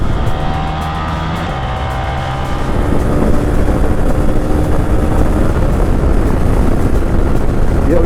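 A Hero Xpulse 200 4V motorcycle pulls hard at highway speed, its engine note rising under loud wind rush as the throttle opens, close and continuous throughout.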